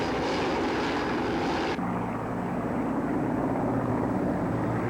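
A heavy firefighting air tanker's engine drones loudly and steadily, a deep propeller roar that holds without a break.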